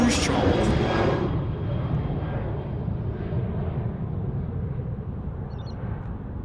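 A Rex airliner departs Sydney Airport with a broad roaring jet-engine wash that starts loud and then fades gradually as the plane climbs away.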